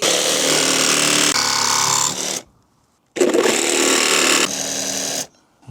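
Power saw blade cutting through a Ford Transit Custom van roof lined with sound-deadening mat, two loud harsh whining bursts of about two seconds each, nearby, separated by a brief silence.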